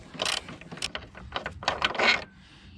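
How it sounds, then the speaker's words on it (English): Ratchet wrench working loose a bolt on the torque strut mount of a 2013-2018 Nissan Altima 2.5L QR25DE, heard as close, sharp bursts of rapid clicking with short pauses between strokes, no talking. "break it free with a ratchet first"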